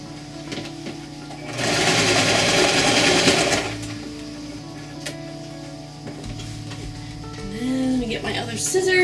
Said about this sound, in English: I'm actually gonna sew this on the sewing machine